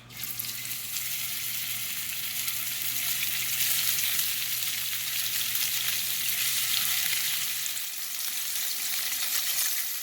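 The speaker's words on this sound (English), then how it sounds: "I'm going to take this fish, I'm going to put it fatty side down first." Fish is laid fatty skin side down in hot olive oil and fries with a strong, even sizzle and crackle that holds steady for about eight seconds, then thins slightly.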